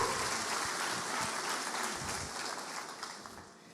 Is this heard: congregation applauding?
yes